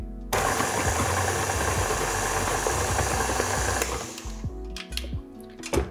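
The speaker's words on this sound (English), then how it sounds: "now I'm just going to really briefly mix these into the cake mix" Electric mixer whirring steadily as crushed cookies are briefly mixed into cookies-and-cream cake batter, a continuous motor drone that cuts off near the end, followed by faint clinks and handling noises.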